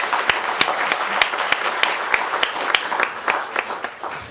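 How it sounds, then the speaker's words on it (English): A room full of attendees at a youth dialogue event on AI breaks into steady, dense applause, many hands clapping at once with sharp individual claps standing out, loud and continuous throughout. "Give him a round of applause."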